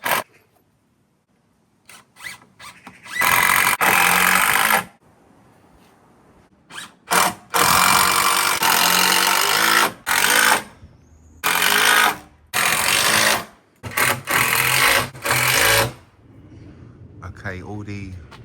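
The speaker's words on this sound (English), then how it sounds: "Gonna slot them under there, screw them into the rafter first, and then up against the timber on the summer house." A power tool screws joist hangers into a timber rafter for a lean-to pergola, with several loud bursts of whirring driving separated by short pauses, close to the mic.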